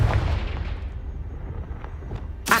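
A Confringo spell blast in the Hogwarts Legacy video game starts with a loud booming hit that rumbles and fades, followed by lighter impacts and a sharp burst at the end.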